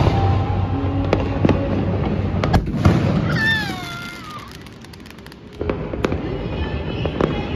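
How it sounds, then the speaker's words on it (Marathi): Firecrackers burst repeatedly as sharp, loud cracks scattered through the clip, some close and some farther off. A cat meows in a wavering call midway. "लोक फटाके फोडतात"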